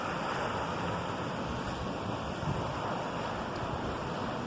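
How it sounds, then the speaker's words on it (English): Massive ocean waves surge during Hurricane Grace hours before landfall, a constant roar of surf mixed with strong wind buffeting the microphone, loud and unbroken throughout. "there are massive, massive waves out here where typically there's hardly any waves at all"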